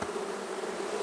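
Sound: honey bees buzzing around a newly installed hive box

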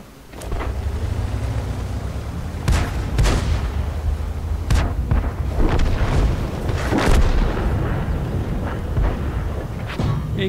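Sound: cannon firing in a train video game

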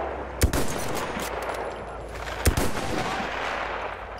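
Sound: enemy machine gun fire from the video game Battlefield 1

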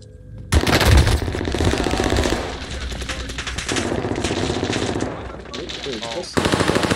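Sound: gunfire in video game Call of Duty Rebirth Island

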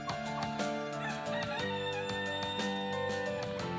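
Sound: ornamental turkeys

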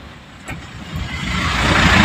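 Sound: vehicle driving through Vijapur market

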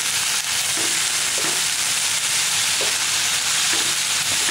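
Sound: stirring gongura leaves and potato frying in a pan

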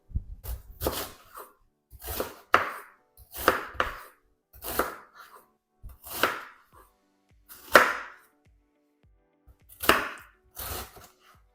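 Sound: knife chopping cabbage and vegetables into cubes

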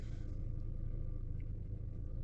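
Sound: car engine idling, warming up

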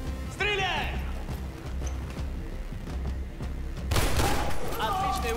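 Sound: gunfire in video game Battlefield 3 co-op

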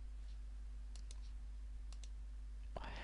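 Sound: computer mouse click on OK button

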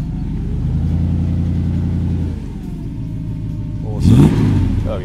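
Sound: Triumph Stag V8 exhaust burble while revving

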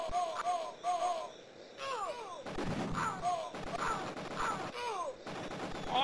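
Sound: gunfire in the video game Cannon Fodder 2 (Amiga)

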